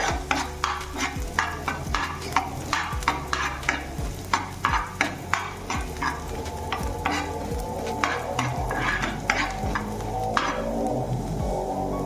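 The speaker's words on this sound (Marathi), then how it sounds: "व्यवस्थित मिक्स छान एक मिनिट एक मिनिटभर आपण हे परतून घेऊया" Soya chilli with garlic is sautéed in a pan. A spatula scrapes in quick, regular strokes, roughly two a second, over a constant close sizzle that stays loud the whole time. No one talks.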